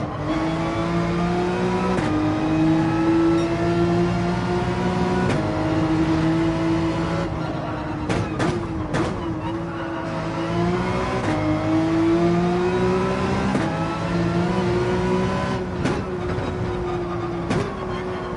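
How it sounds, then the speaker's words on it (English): Car engine revving hard through burnouts in a tunnel in Gran Turismo 7, with sustained loud droning harmonics rising and falling and sharp tire-squeal bursts, continuous with no talk. "Burnouts, or donuts as some call it, in the tunnel."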